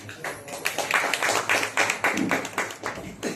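Several people clap together in a steady burst of applause at a Sunday church service, lasting a few seconds, close by and fairly loud, with no talking over it.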